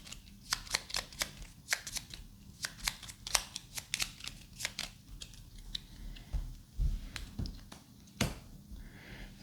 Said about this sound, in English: deck's empty now, so I need to shuffle this